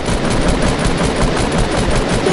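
Gunfire in a PS4 video game is shot down at a floor, a loud, dense, unbroken burst of rapid automatic shots that fills the whole moment.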